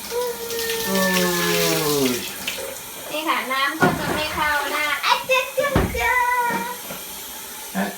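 Water is poured from a rinse cup over a young child's head during hair washing, splashing and running near and loud, while an adult and someone talk over it.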